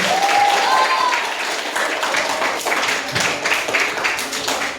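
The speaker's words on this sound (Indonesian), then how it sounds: "Oke, kasih tepuk tangan." Schoolchildren applaud in an Indonesian classroom, a steady wash of many small hands clapping, with children's voices and excited squeals mixed throughout.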